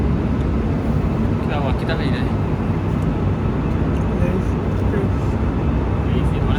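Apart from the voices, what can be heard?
airplane cabin noise during flight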